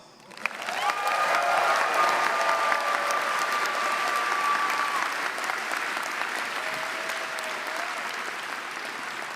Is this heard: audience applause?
yes